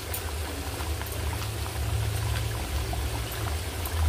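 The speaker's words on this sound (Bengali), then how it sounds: "ঝোলটা ফুটে গেছে, এবার আমি এর মধ্যে কাতলা মাছগুলো এক এক করে ছেড়ে দেবো।" Curry gravy bubbling steadily in a pan as catla fish pieces are slipped in, a low continuous boiling rumble with faint pops, fairly quiet and without any voices.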